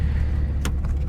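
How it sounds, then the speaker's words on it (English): A Nissan G35 Coupe idles with ISR long tube headers, a deep, steady low exhaust rumble close by, with a short sharp click or rattle near the middle. "I'm going to do a quick walk around, I guess, real quick, just to show you guys how it sounds idling"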